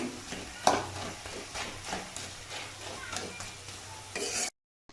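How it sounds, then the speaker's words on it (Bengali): Banana flower mixture with sugar being stirred in a pan, giving soft repeated scraping and gentle sizzling strokes at close range, with no speech, before ending abruptly in silence. "এভাবে আপনারা নাড়বেন।"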